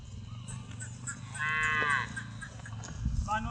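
A dairy cow lets out a single clear moo amid faint background farm noise, mid-distance and moderately loud against a low rumble.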